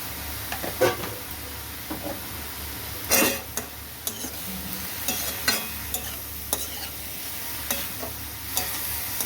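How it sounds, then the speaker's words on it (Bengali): Beetroot, chili and onion stir in a frying pan with turmeric, giving a steady sizzle under repeated scrapes and clanks of the spoon against the pan, with no voices. "ভালো করে পেঁয়াজের সাথে মিশিয়ে নেবো"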